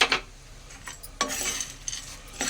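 Dry fruits are stirred in ghee in a bandi pan, giving sharp metal scrapes and clinks at irregular intervals over a faint low sizzle, close up and with no talk.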